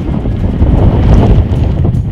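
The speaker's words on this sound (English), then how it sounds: "It's kind of windy" Heavy wind buffets the microphone outdoors at an underground earthbag building site, producing a loud, constant low rumble and roar with no clear speech.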